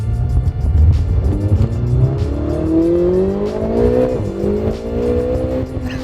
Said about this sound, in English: This is a 2016 Ferrari 488 GTB, an absolutely insane twin turbo V8 supercar.